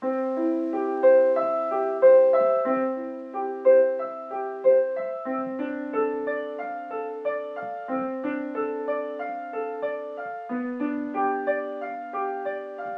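Bach's C Major Prelude, measures 1 through 8, played on piano as a continuous flow of evenly paced broken-chord arpeggios, each pattern repeated before the harmony shifts, close and resonant with no speech.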